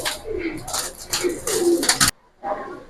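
Silver racer pigeons coo close by, a series of soft throaty rolling coos with a brief pause near the end before another coo begins.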